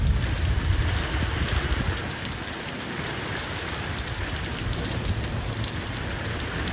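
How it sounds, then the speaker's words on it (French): Heavy rain pours down during a thunderstorm in Corrèze, a dense, loud, steady roar of drops drumming on surfaces, close and unbroken for the whole stretch. "j'ai jamais vu autant de pluie sur un orage"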